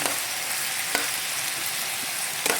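Chicken feet being stirred in a cooking pan, a steady close hiss of frying with a few faint scraping strokes from the utensil and no talk.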